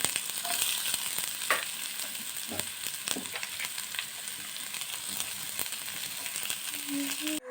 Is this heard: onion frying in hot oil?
yes